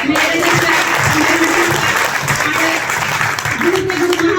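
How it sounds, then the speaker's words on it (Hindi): An audience claps warmly at an ARL family gathering, a loud, sustained wash of applause with a voice and tonal sounds running underneath. "दिल से ताली बजाइए"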